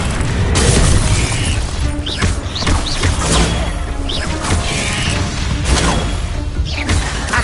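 Booming magical blasts and crashing impacts from the Confringo fire spell in Hogwarts Legacy on PS5, loud and dense, with several heavy bursts layered over continuous battle noise and no talking.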